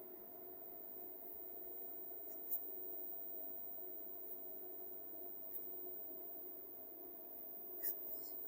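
Faint pen strokes scratch across paper as math is written out, with a few soft taps and scrapes over a low, steady background hum.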